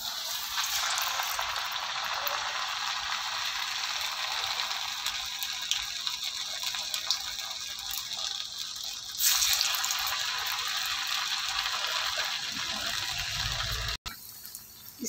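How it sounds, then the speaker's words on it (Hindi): Rice kurkure snacks made from leftover cooked rice fry in hot oil, giving a continuous close hiss and crackle that swells slightly partway through, then cuts off abruptly near the end. "ऑयल हमारा गरम है, इसमें हम चल रहे हैं घी पकाने।"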